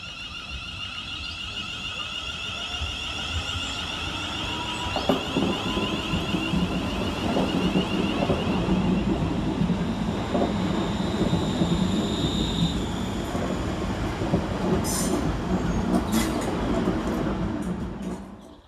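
A Class 350 London Northwestern Railway electric multiple unit on its Crewe to Birmingham New Street service rumbles steadily past at Kidsgrove station. Wheels clatter over rail joints, the motors whine, and a brief squeal sounds near the end.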